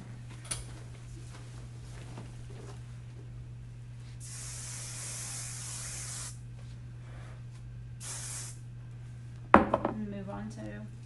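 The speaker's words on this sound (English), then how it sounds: "I'll go ahead and spray it." Two long hissing bursts of hairspray, close by, separated by a short pause, over a low steady hum, then a clatter near the end.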